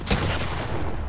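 Rapid gunfire in the video game Fortnite, a dense burst of shots filling the whole moment, loud and continuous with no talking over it.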